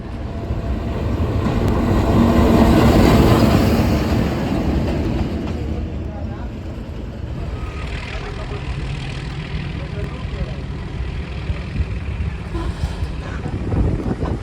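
A meter gauge train runs near the Gir forest, its loud steady rumble swelling early and then settling into a continuous drone with faint clanks, with some voices under it.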